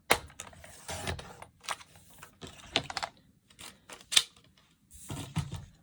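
Scissors cut a 2 by 8.5 inch strip of patterned paper for an Easter treat bag craft, making a series of crisp, irregular snips and paper rustles close by, with no talking.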